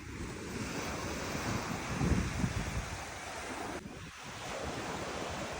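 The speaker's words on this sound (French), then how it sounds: "les vagues touchent au bâtiment." Ocean waves washing against a beachfront building at Playa del Carmen, a steady surging roar heavily mixed with wind buffeting the microphone, with no clear individual wave impacts standing out.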